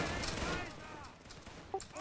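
Musket volley in a multiplayer line battle game: a burst of overlapping shots up front, then scattered sharper reports, with voice chat talk mixed in.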